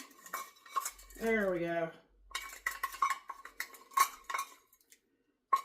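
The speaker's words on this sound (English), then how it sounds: "Some of it's froze to the measuring cup here." Metal scraping and clinking against a measuring cup as frozen pork broth from a slow cooker is chipped loose for pork tamale soup, a steady run of close, busy scrapes with a brief hum midway and a short spoken phrase.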